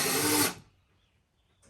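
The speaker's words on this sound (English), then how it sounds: "And finish off with the auger." An auger drill bores into a cedar bench board in a short, loud burst that cuts off abruptly, followed by near silence.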